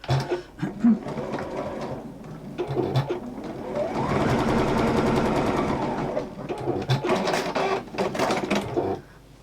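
A sewing machine stitches along the straight edge of fabric pieces, with bursts of rapid mechanical whirring separated by short pauses and one long steady run in the middle, close and fairly loud.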